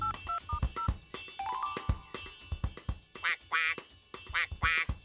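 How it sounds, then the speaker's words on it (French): Cartoon ducks quacking in rapid, bright, close bursts, mixed with tonal electronic beeps like phone dialing early on and layered with other cartoon sound effects and music. "tout ce que j'entends, c'est Cancan et Coin-Coin."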